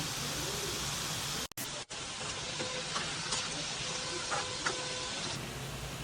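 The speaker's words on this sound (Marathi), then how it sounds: "आता राहिलेले भजे असे तळून घेते" Gram flour fritters (kadhi bhaje) deep-fry in hot oil, giving a soft, even hiss with faint bubbling and a few small clinks, moderately quiet and continuous, briefly cutting out near the start.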